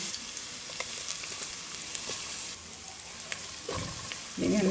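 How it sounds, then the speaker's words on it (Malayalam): Ginger, garlic and green chili frying in ghee for a Thalasseri mutton dum biryani, giving a steady, close hissing sizzle throughout that swells louder with a stirring scrape at the end. "ഇനി ഇതേ നെയ്യിൽ തന്നെ മസാലയ്ക്കുള്ള ഇഞ്ചി വെളുത്തുള്ളി പച്ചമുളക് ഇട്ട് കൊടുക്കാം"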